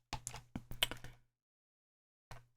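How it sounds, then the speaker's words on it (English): Several quick, close keystrokes are pressed on a computer keyboard in a rapid cluster, followed by a pause and one more isolated key click. "I'm just going to hit Y on the keyboard"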